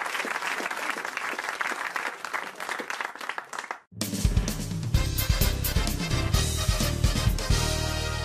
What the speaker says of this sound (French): on vous applaudit, merci